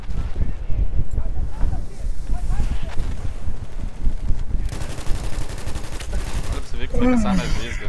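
Rapid gunfire in Battlefield 1, bursts and single shots crackling over wind and game ambience, with a player talking throughout and a rising whine near the end.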